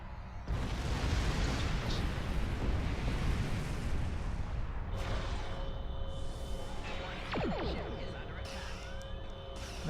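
A jamming station is destroyed in the video game Star Trek Online, heard as a long, heavy roaring explosion rumble that fills the first half, then fades into tonal sci-fi hums and sweeping effects.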